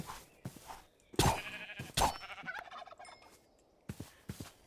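Turkeys gobble in Minecraft's RLCraft modpack, two loud rattling gobble bursts among shorter clucks and scattered clicks, with quieter gaps between calls.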